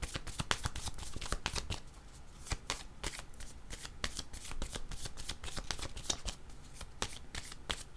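Tarot cards are shuffled by hand in a rapid run of crisp riffling flicks and slaps that continue steadily at close range, with no talking.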